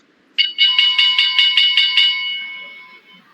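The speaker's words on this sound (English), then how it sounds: "school bell" A bell sounds in a quick even series of about eight bright metallic strikes, then the tone rings out and fades over a quiet background, loud, close and alone.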